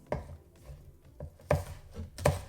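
Knife chopping vegetables for salsa on a cutting board, a few spaced, close thuds at an uneven pace with no talking.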